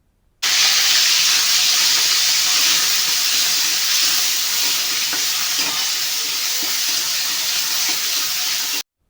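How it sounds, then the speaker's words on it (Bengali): A paste of ginger, garlic, green chili and onion hits hot oil and fries with a loud, steady, close sizzle that starts abruptly and holds for about eight seconds, with faint stirring beneath it. "এবার ওই তেলের মধ্যে আদা, রসুন, কাঁচা লঙ্কা এবং পেঁয়াজ বাটাটা দিয়ে দিতে হবে।"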